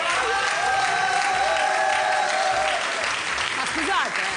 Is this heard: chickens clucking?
no